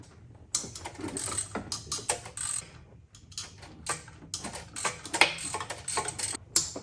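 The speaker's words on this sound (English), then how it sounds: "I'm going to take out all 4 of those using a 10mm socket." A ratchet turns a 10mm socket to remove bolts on a 2018 Mustang, with rapid clicking bursts in close, uneven runs and short pauses between them.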